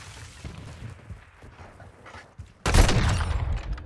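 Sniper rifle gunfire in the Modern Warfare 2 video game: quiet game ambience, then a sudden loud burst of shots and rumbling blasts that carries on to the end.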